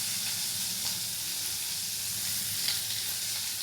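Ivy gourd (kovakkai) sizzles steadily as it is added to a frying pan, a close, continuous hissing fry with faint stirring ticks and no talk.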